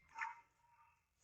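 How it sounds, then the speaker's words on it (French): A single short dog bark, faint and a little distant, followed by quiet low background noise. "Chien."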